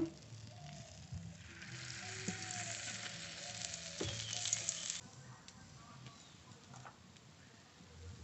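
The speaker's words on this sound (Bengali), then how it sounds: "এই অমলেটটাও উল্টিয়ে এপাশ ওপাশ ভালো করে ভেজে নেব" An omelette frying in oil in a pan, with a steady, soft sizzle that swells louder for a few seconds midway and then settles back to a quieter crackle, heard alone without talk.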